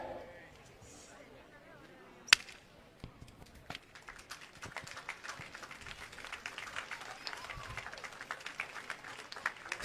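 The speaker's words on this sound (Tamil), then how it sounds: "Please give them a big round of applause." A crowd of spectators claps and cheers for students sprinting in a race at a school sports meet, starting after a sharp crack and swelling into sustained applause, with a voice speaking over it.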